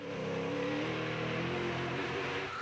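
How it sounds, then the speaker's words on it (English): Castrol Toyota Hilux rally car with a badly damaged windshield, racing in the Nkomazi 400 desert rally, its engine a steady loud drone with rising harmonics as it pushes on. "Despite the severely damaged windshield, the Hilux is motoring"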